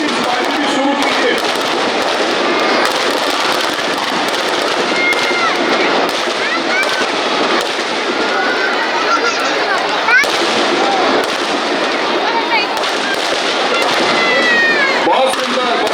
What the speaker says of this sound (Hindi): आतिशबाजी भी शुरू कीजिए